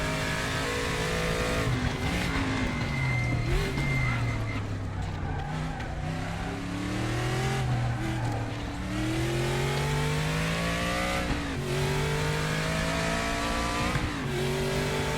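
Racing car engines in a video game rev and shift repeatedly, rising and falling in pitch with occasional tire squeals, loud and continuous with no voices.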